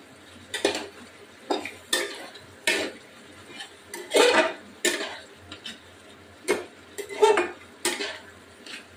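A utensil stirs bhetki fish bone and potato curry, spiced with sugar and garam masala, in a metal pan. It makes repeated scraping and clanking strokes in an uneven rhythm, close and fairly loud, with no talk.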